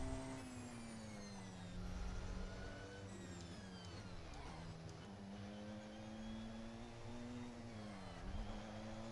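Race car engine revving hard during a hot lap in a sim racing game, a loud continuous whine climbing and dropping through gear changes across the whole stretch.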